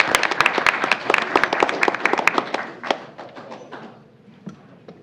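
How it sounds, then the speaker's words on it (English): A school board meeting audience applauds a student honored as senior of the month at Lacey Township High School, a dense burst of close clapping that thins out and fades toward the end. "A round of applause for her family and friends."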